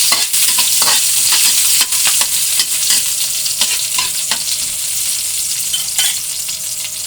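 Onion and garlic sautéing in a pan, a loud, close, continuous sizzle broken by repeated scraping and clacking of a utensil stirring, with no voices.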